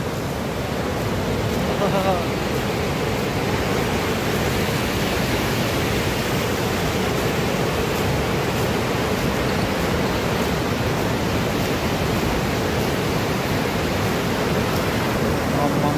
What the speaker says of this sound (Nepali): खोलाको आवाज मात्रै है